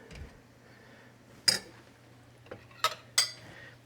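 A spoon stirs saffron into cooked rice for Persian barberry rice with chicken, giving a few sharp metallic clinks against the dish, spaced irregularly and fairly near over a quiet kitchen background.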